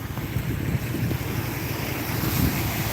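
Water drains steadily out of a pond into an outlet on a rainy day, a continuous low rushing wash with a wind-blown rumble, close and fairly loud throughout, with no voices.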